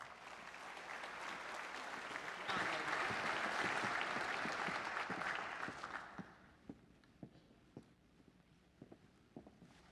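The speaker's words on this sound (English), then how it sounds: "let's give these two young ladies a big round of applause" Audience applause for two young women at a Texas event, a dense, loud round of clapping that swells and holds for several seconds, then breaks apart into a few scattered claps.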